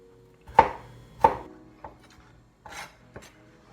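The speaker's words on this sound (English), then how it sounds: "dice them again into just really small pieces" A knife dices jalapeno into small pieces on a board, with a few distinct chopping knocks spaced unevenly, close and fairly quiet, followed by softer scraping.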